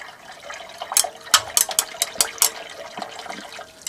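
Silver solution being stirred during sodium formate refining of sterling silver, giving a run of close, irregular clinks and liquid swishes over about four seconds with no talk.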